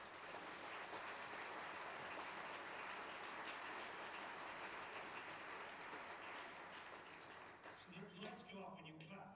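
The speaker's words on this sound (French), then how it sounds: "continuez à applaudir, ils vont mettre la lumière" A conference audience applauds loudly and steadily for about eight seconds, a dense, even wash of clapping that thins out near the end as a few voices break through.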